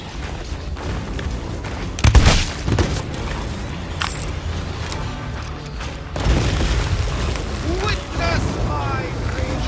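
Rocks launched from the sky slam down in Sea of Thieves, with a couple of heavy booming impacts over a constant windy ocean backdrop and creaking ship sounds between them.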